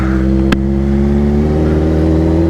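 A car engine holds a loud, steady revving drone from inside the cabin on a highway stretch, its tone rising slightly, with one sharp click partway through.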